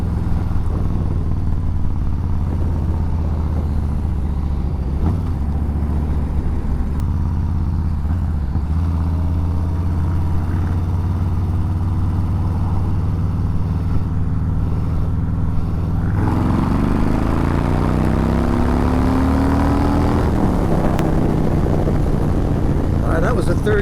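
Two motorcycles, a 2021 Harley-Davidson Street Bob 114 and a Triumph Bobber Black, accelerate in a third-gear roll-on from about 30 mph, a loud continuous engine drone that climbs in pitch, with wind noise and a voice talking over it.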